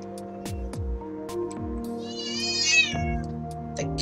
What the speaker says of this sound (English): The cat is not happy.